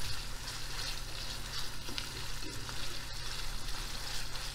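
Minced meat sizzling and frying in a pan while making stuffed squash, a steady close crackle and hiss with occasional stirring scrapes and no talk.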